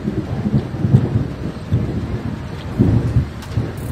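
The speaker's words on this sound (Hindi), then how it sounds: "बादल गरज रहा है और बिजली भी गरज रहा है" Thunder rumbling through a rainy storm, a loud, continuous low roll with swelling peaks over steady rain, heard without talk.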